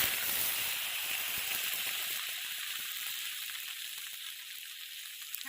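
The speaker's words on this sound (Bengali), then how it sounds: "তেল গরম হয়ে গেছে, ঝিঙে দিয়ে দেব।" Sliced ridge gourd hits hot oil in a pan on a stove, setting off a steady, close sizzle and frying hiss that carries on without a break and eases off a little toward the end.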